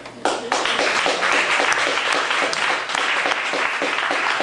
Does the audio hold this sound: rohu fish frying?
no